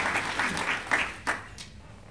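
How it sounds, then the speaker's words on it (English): Brief, fairly faint applause from a conference audience, a few scattered claps and bursts that quickly die away into quiet. "Some applause for Paul, please"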